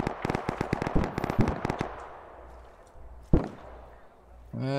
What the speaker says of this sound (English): They're shooting at dead Bradley.